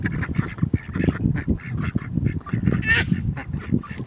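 A flock of ducks quacks and honks in a busy, overlapping chorus, close by and fairly loud throughout, with no talking.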